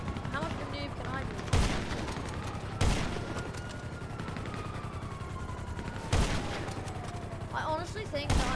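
Gunfire in GTA Online: loud sharp shots crack out in several separate bursts, with a long descending whine and mechanical clatter between them, no talk over it.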